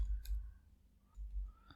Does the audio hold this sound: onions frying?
no